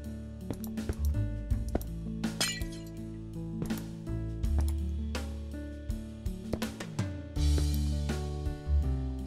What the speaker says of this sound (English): add in the glass panes